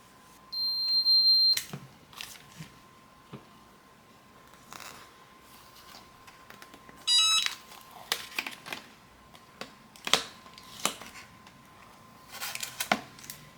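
A steady high electronic beep from a heat press timer sounds twice, a few seconds apart, amid scattered clicks and handling clatter close by during sublimation mug pressing.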